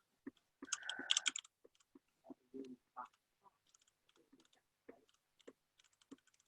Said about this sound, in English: I can hear the typing sound.